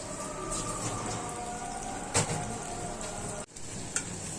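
Dried fish frying in oil in a home kitchen for a mashed bhorta, a steady close sizzle filling the clip with a couple of brief clatters of utensils partway through.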